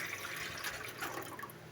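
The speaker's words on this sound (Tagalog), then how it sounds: "Lagyan pa natin yung tubig." Water pours steadily into a cooking pot being filled for steaming cassava puto, a continuous splashing, trickling flow heard close up with no talking.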